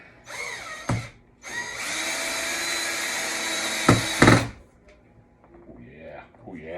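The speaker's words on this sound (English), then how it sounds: "I got to get an extender on my drill." Power drill driving screws to mount a J1772 EVSE wall dock, a short whir, then a sustained loud whine of about three seconds ending in clicks and thumps, with someone talking before and after.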